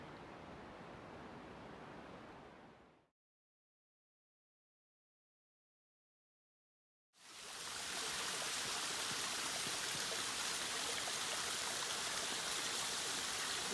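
Rushing waterfall on the Northern Loop trail at Mount Rainier, a steady broadband roar that cuts out to silence for about four seconds, then returns louder and closer, with no voices.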